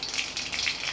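Mustard seeds spluttering and crackling in hot oil for a cluster beans chutney, a dense steady sizzle with quick popping bursts throughout, close and alone.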